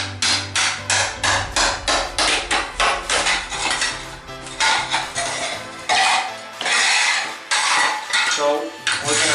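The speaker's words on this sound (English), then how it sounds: "so you can use a hammer" Rapid, loud metallic hammer strikes ring out one after another as baseboards are pried off during demolition of a 1983 Florida home bathroom, the hits close and steady, then thinning into fewer, heavier blows.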